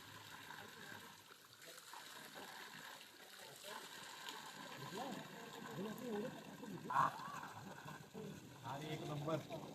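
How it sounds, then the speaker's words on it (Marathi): Water pours and splashes from a cow-mouth spout at a temple, faint and continuous, with people talking over it. "बघा कसं पाणी येतंय गाईच्या तोंडातून"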